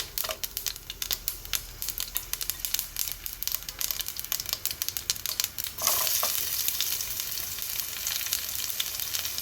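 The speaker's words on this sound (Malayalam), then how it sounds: "കടുക് പൊട്ടിത്തുടങ്ങുമ്പം നമുക്ക് വറ്റൽമുളകും ഉള്ളിയും ചേർത്ത് കൊടുക്കാം" Mustard seeds splutter in hot oil with dried red chilies and onion for a horse gram and spinach thoran. Rapid irregular pops and crackles ride over a sizzle, and the frying turns into a denser, steadier hiss near the end.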